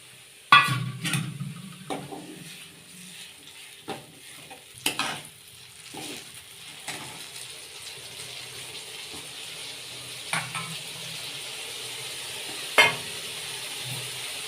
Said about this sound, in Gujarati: ડુંગળી ચડે ત્યાં સુધી આપણે એને હલાવશું